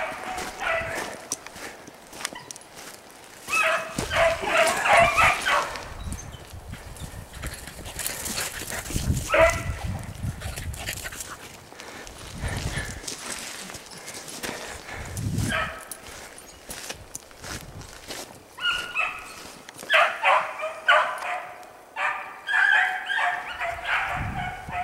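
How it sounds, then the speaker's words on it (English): A pack of hounds bays and yips in a spring hare chase, the barking rising and falling in bursts as the dogs run past, fairly close, with rustling movement between calls. "And here comes the dogs."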